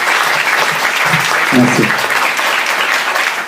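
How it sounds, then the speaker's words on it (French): A crowd gives a big round of applause for a performer at a charity event, with dense, sustained clapping filling the room and a brief spoken thanks over it. "un grand applaudissement pour lui"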